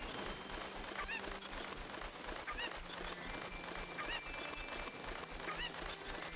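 Cuckoo chicken from The Legend of Zelda: Ocarina of Time, giving repeated short honking clucks at a steady pace over a constant, busy game backdrop, with no talking.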